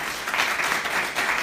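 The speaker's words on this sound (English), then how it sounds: "Can we just clap for him?" An audience at a talk on bipolar disorder claps for a young speaker, with steady, even applause from a crowd and no voices over it.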